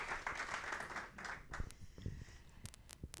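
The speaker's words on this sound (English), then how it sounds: "So round of applause for Kirsten and her dodgy foot" Applause at a women's conference fades out, with scattered claps thinning to a few sharp isolated hand claps and some faint murmuring under them.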